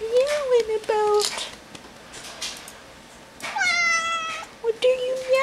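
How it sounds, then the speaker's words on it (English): A pet cat meows repeatedly at close range, with long, drawn-out, wavering cries in several bursts separated by quieter gaps. "Chloe, what are you meowing about?"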